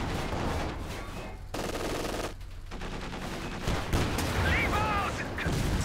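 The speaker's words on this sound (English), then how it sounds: "1 full burst of AA half-track is almost enough to kill the Puma" Automatic anti-aircraft guns on a half-track fire a sustained burst at a Puma armored car in the Company of Heroes 2 video game. Dense rapid gunfire and explosions run throughout with a few brief gaps, loud and close, with busy battle noise.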